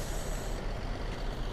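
Heavy bus engines and an air brake hiss at a busy bus terminal in Jember, a steady loud rumble filling the space with no talk.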